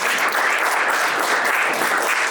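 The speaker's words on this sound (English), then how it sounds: "let's applaud one more time" Loud, dense applause from a WordPress meetup audience in Vienna thanking a speaker, continuous close clapping from many hands at an even level, with no speech over it.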